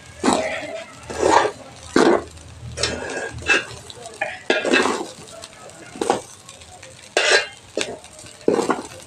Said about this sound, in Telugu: ఇవైతే ఒకసారి కలిపేసుకోవాలండి మసాలా పొళ్ళు ఇంకా రైస్ బాగా పట్టేలాగా కలుపుకోవాలి